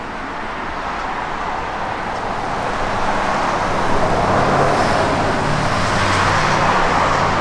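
An old 1966 Chevrolet Nova hot rod engine rumbles and drones steadily close by, growing slightly louder, with a rough, noisy exhaust note and no talking.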